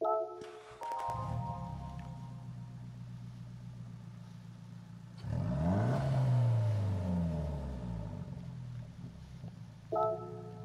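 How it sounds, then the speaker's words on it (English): Engine of a 1994 Nissan Silvia K's Type S (S14) in Gran Turismo 7 cranks and fires up, settling into a steady idle, then revs loudly once before dropping back to idle, ending with a short click. "we'll listen to the startup sound"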